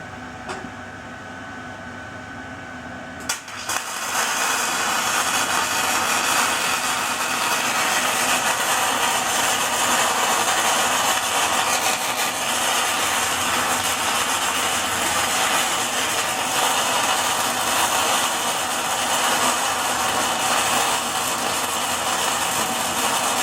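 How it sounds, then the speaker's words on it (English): A flux core wire welder strikes an arc and runs a bead, the sound starting abruptly and holding as a loud, steady crackling buzz for about twenty seconds, close and with no talk. "Let's run a quick bead here and see what happens."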